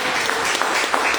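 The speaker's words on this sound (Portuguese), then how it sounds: "Tem uma linda salva de palmas para Jesus." Applause from a church congregation at a Sunday service, a steady wash of many hands clapping close by, filling the whole moment without pause.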